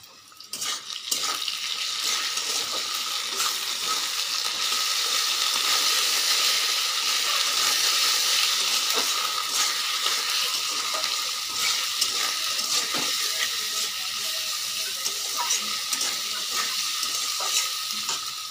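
Steady, loud sizzling of ginger and garlic paste frying with spices in a pan, a continuous crackling hiss with occasional stirring scrapes and clinks throughout, no voices.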